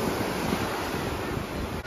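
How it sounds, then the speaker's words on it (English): Ocean waves surge onto the beach at Seaside, Florida in a continuous wash of surf, with wind buffeting the microphone throughout at a steady, moderate level. "I want to show the waves."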